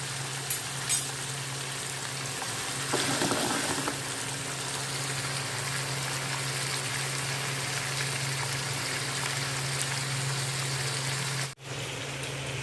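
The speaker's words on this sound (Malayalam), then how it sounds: "ഇത് ഹൈ ഫ്ലെയിമിൽ കിടന്ന് തന്നെ നന്നായിട്ട് പൊരിച്ചെടുക്കാം" Kozhuva (anchovy) fish frying hard in oil on a high flame, giving a steady, dense crackling sizzle with a low hum underneath that continues evenly throughout.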